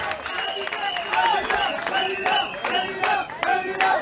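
A crowd of party supporters applauds and cheers at an RHDP campaign rally in Bouaké, with dense clapping and shouts that swell in bursts, voices mixed in throughout.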